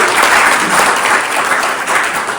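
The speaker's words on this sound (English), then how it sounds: "let's give everybody a big round of applause" An audience at a storytelling event claps in a full, dense burst of applause that holds steady throughout, close and loud with no talk over it.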